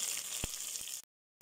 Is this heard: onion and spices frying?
yes